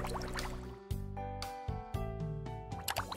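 Moka pot brewed coffee pouring into a cup nearby, a trickling stream broken by a few gurgling splashes and drips, fairly quiet and with no talking.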